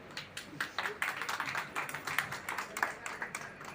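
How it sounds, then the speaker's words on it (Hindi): Scattered audience clapping at an honor ceremony in Hapur, uneven bursts of hand claps rising and falling, fairly close, with voices faintly mixed in. "तालियां बजनी चाहिए"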